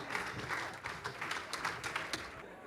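A live crowd at a stand-up comedy show claps steadily to welcome comedian Kepa Nyirudushya, a dense, continuous patter of many hands at moderate loudness with no pause.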